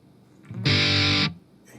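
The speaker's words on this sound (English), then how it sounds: "I do know I do like in the distortion the overdrive that's on this." A short burst of heavily overdriven, distorted electric guitar through Amplitube, a single gritty sustained chord cutting in loud and stopping abruptly.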